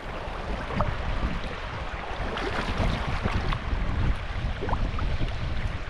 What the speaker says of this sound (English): Ooh, that wind is cutting right through me.